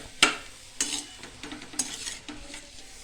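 Potatoes sautéed with chopped fresh coriander are stirred in a pan, giving a few sharp scraping strokes over a soft background sizzle, close and moderately loud with no talking.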